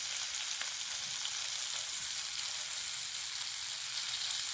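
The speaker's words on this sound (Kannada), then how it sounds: "ಈ ಥರ ಫ್ರೈ ಆಗಲಿ" Bangude mackerel fish frying in a pan of oil, a steady dense sizzle throughout at moderate level with no talk.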